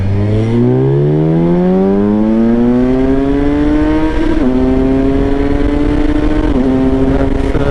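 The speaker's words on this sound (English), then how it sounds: "Let's accelerate a bit on this empty street here." A 2023 Kawasaki Versys 1000 SE motorcycle accelerates hard along an empty street. The engine note climbs steadily and loudly, then drops briefly at two gear shifts before rising again, close to the rider.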